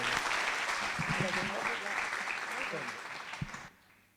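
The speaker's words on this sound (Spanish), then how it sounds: "le damos ese aplauso al Rey de Reyes" Congregation applauding during an evangelical church worship service, a dense, steady wash of clapping with some voices mixed in that fades out near the end.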